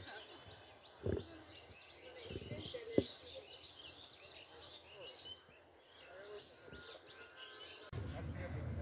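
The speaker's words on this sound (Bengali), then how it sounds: "পাখির শব্দ ব্রেন ডেভেলপমেন্টের জন্য অনেক ভালো" Faint, busy birdsong with many small chirps and tweets from several birds at a distance in Bangladesh Nature Study Park, Ghorashal, Narsingdi, plus a couple of brief louder knocks nearby.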